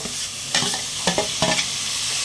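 Onions and masala sautéing in a pan, a steady close sizzle punctuated by three or four quick spoon scrapes as the mix is stirred, with no voices.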